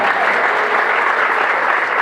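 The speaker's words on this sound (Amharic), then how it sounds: "አጨብጭቡ ለኢየሱስ።" A church congregation applauds for Jesus during a prophet's healing service, a loud, continuous wash of many hands clapping together, filling the room without pause.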